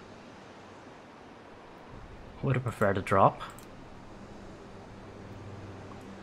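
Steady wind rushes across a cold mountainside in the Viking survival game Valheim, a constant broad hiss that continues beneath a brief burst of male speech in the middle.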